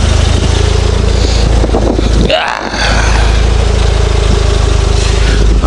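A car engine idles loudly and steadily up close, with a constant rumbling drone and a brief dip in the middle.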